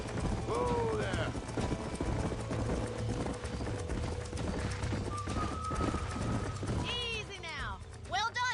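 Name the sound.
horses clip-clopping in video game Red Dead Redemption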